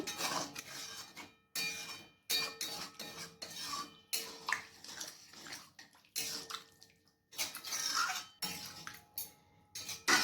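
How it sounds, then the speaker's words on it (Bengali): Boiled kabuli chana being mixed into cooked mutton in a pot, a steady series of close scraping and clattering spoon strokes against the metal, with brief pauses between bursts and no talking. "কাবলি চানাটাকে মাংসের সাথে আবার ভালো করে মিক্স করে নিচ্ছি।"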